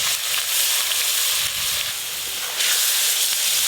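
Water poured into hot whole spices in a cooking pan hisses loudly and continuously, a dense steamy sizzle with slight swells, alone without voices.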